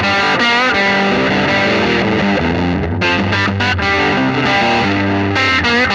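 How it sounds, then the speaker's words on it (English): Electric guitar played through an Xotic EP Booster pedal with a Pathfinder amp, giving a loud, distorted tube-like tone with sustained chords and brief choppy stops, with no voices. "Take my little Pathfinder, got the EP booster. I can get it to sound like I'm running through a bunch of tubes."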